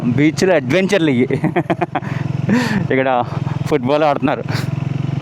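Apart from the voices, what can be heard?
motorcycle riding on a sandy beach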